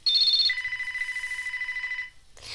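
A telephone rings nearby in a home, giving a loud electronic trilling ring that warbles rapidly for about two seconds before stopping.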